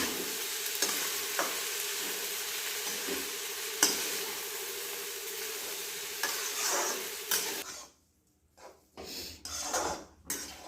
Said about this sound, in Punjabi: ਆਪਾਂ ਪਾਸਤਾ ਪਾ ਦਵਾਂਗੇ ਹੁਣ ਤੇ ਹੁਣ ਆਪਾਂ ਇਹਨੂੰ ਕਰ ਦੇਵਾਂਗੇ ਮਿਕਸ